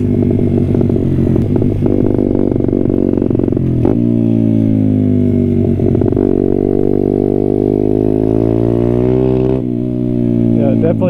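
Honda CRF dirt bike engine running steadily with a strong harmonic drone, rising slightly in pitch mid-clip before settling back, loud and close, with no talk over it.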